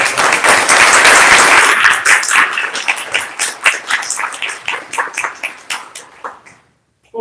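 Audience applause at the end of a round-table academic session, loud dense clapping that rises quickly, then thins into scattered claps and fades to silence near the end.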